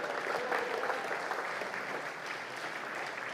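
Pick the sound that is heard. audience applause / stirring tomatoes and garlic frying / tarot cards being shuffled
audience applause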